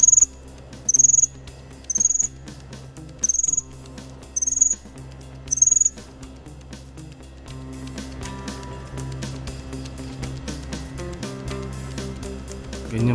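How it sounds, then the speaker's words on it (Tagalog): Cricket chirping outdoors at night: about six loud, evenly spaced shrill chirps, followed by a busier stretch of scraping and clicking noise. "Ganyan pala mag-ingay itong kuliglig na to."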